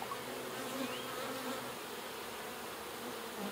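Honey bees buzz steadily inside a hive that has lost its queen, a dense, even hum heard up close and alone, with no talk over it.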